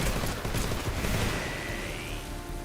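Rapid gunshots fired at a thrown grenade in the Metal Gear Solid Delta video game, a dense, fairly quiet burst of crackling shots with a rising whine behind them.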